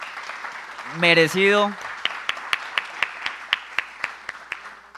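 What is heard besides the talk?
audience applause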